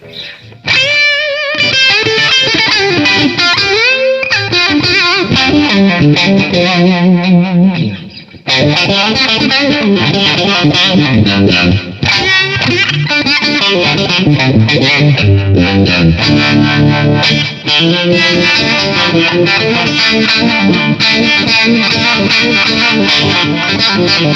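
Distorted electric guitar plays a loud, continuous lead line through an Ernie Ball Expression Tremolo pedal, heavy modulating effect, notes bending and sliding over a thick, buzzing tone.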